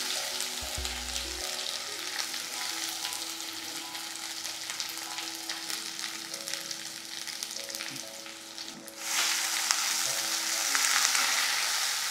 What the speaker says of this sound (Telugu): వేసాక మనం ఈ గ్రైండ్ చేసిన ముద్ద ఉంది కదా, దాన్ని నూనెలో వేసేయండి.